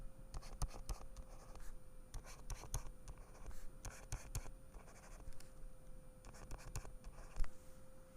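Pen or pencil scratching chemical bond lines onto a page, in short repeated strokes grouped in bursts with pauses between, close and quiet over a faint steady hum.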